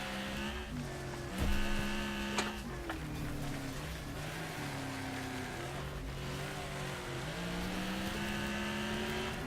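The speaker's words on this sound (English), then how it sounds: "Now I get to listen to this constant car crashing sound while my car hops in place." Engine whine with shifting pitch under repeated crunching impacts as a stuck car hops in place in the racing game Wreckfest, a continuous loop of crash and motor noise with no talking.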